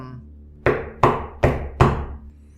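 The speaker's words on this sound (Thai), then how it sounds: "มีเสียงเคาะประตูดังขึ้น" Four firm knocks on a wooden door land in an even, unhurried rhythm, each a dull thud with a short decay, heard close and clear against a quiet room.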